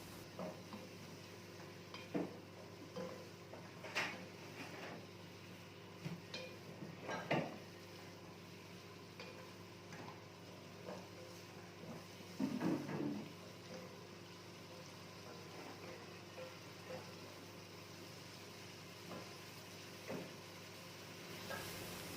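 Spoon stirring turmeric powder into tuna and vegetable rice in a pot, soft faint scraping and stirring with a few louder clinks of utensil against the pot, quiet and close, no talking.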